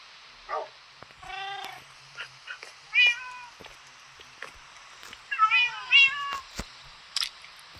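Cats in the Minecraft video game meow in several short, high, wavering calls, one early, a pair near the middle and a tight cluster toward the end, with quiet gaps and faint clicks between them.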